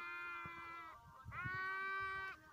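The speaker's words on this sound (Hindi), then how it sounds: "ये बकरिया भेड़ देखिए, ये बकरी है" Goats and sheep grazing on grass in Saudi Arabia bleat in long, wavering, overlapping cries, fairly close and steady across the whole stretch, with no talk over them.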